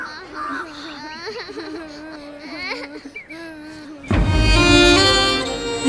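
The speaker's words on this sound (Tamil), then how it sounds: "சின்ன பசங்க ஏன் இப்படி அழுகுது" A small child cries and whimpers in wavering, rising wails with broken sobs, close and fairly loud, followed by a sudden burst of louder music or noise near the end.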